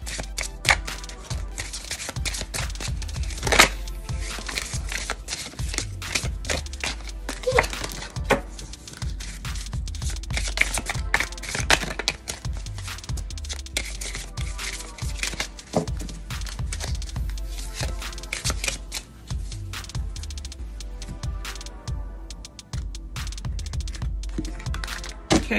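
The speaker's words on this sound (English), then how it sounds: "Let's give them a little shuffle." Tarot cards shuffled by hand in a long, continuous run of quick, crisp riffling and tapping, fairly close and steady for the whole stretch, with a faint tonal background beneath.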